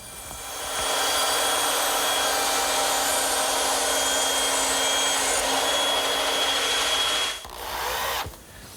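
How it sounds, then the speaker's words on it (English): A bandsaw trims wooden tenons: a steady loud whining drone with a high tonal hum that runs for several seconds, then cuts off and spins down. "they're going to bump into one another unless I trim a little off at the bandsaw"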